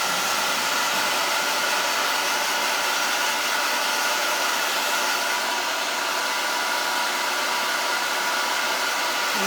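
A hair dryer drying paint blows continuously at close range, a steady, even rushing hiss with no breaks.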